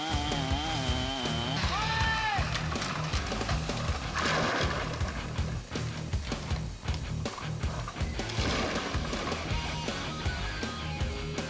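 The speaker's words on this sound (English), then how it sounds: "Some trees were dropped into the stream using a chainsaw." A chainsaw runs while trees are felled into a stream, a loud, continuous buzzing roar that dips and surges across the passage. Other tonal sounds are mixed in near the start.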